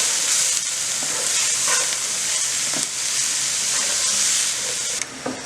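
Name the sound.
jalapenos and mushrooms sautéing in oil in a pan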